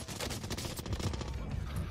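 Rapid gunfire in Call of Duty Warzone, dense bursts of automatic shots running continuously and fairly quiet under faint player chatter.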